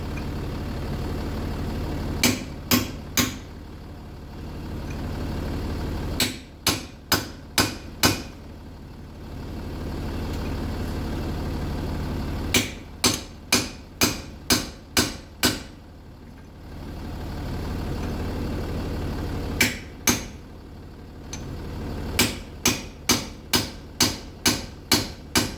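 Hammer blows on a chisel driven behind a stuck Jaguar XF wheel hub, sharp metallic strikes in bursts of three to six spaced across the clip, loud and close over a steady low engine-like hum.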